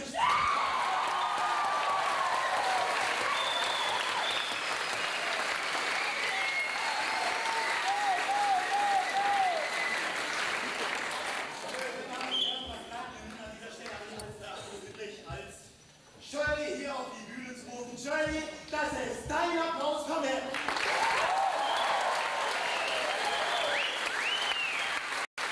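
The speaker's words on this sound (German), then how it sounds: "Das ist dein Applaus, komm her!" Loud audience applause at a school Abitur class event fills the hall, mixed with whoops, screams and cheering. It dips briefly midway while voices talk over it, then swells again to a full, sustained ovation.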